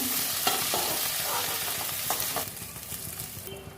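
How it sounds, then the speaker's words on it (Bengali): Potato pieces fry in hot oil for a cauliflower and potato curry, giving a continuous close sizzle with intermittent scraping and stirring sounds from a spatula against the pan. "আলুগুলো ভাজতে দিয়েছি ভেজে নিচ্ছি"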